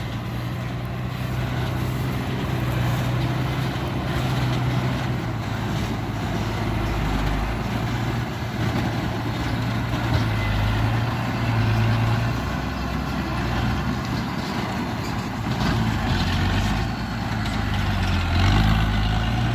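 A heavy sugarcane truck labours up a steep, narrow track, its low engine drone steady and loud for the whole stretch with only slight swells in effort and no talk.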